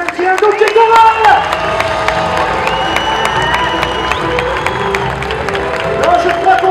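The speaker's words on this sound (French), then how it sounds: "S'il vous plaît, applaudissez les Cowboys et les Indiens d'Oklahoma" Lively crowd at an Old West Wild West show cheers, whoops and claps for the Oklahoma cowboys and Indians performers, loud and close, with shouting voices and scattered whistles over sustained applause.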